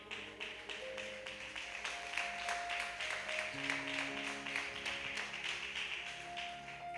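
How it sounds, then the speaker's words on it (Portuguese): A church congregation claps in praise with steady, rhythmic hand claps at an even pulse over soft musical tones, fairly distant and moderate in level. "Louva, Senhor, com palmas."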